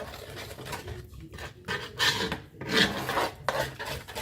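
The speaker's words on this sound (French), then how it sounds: "On mélange tout ça et on laisse reposer." A batter for a homemade cake being stirred by hand in a bowl, giving close, steady scraping and rubbing strokes with brief pauses, and no voices.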